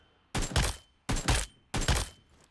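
Three evenly spaced bursts of gunfire from a rifle in the BGMI mobile battle royale game, each a loud sharp blast with a brief rolling tail, close and clear with nothing else heard.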